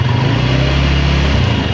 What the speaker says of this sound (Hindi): ये है भाई इसका एग्जॉस्ट जो कि मैं आपको सुनाने वाला हूँ।